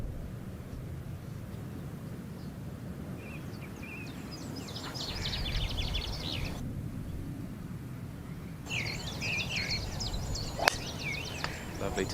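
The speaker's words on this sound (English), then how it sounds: "Lovely to hear the birdsong in the background" Birds chirp and trill in quick, bright bursts over a low outdoor rumble at the Women's Amateur Championship golf final, with a sharp crack partway through.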